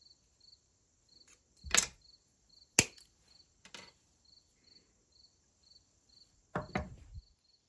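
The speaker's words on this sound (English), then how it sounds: "For this staple, we're going to use 1/16 welding rod. I'm going to start by cutting a 4-inch section." A length of 1/16 welding rod being cut into a 4-inch section for a staple, heard as a few sharp, separate snips and clicks spaced seconds apart against a quiet background with a faint steady high whine.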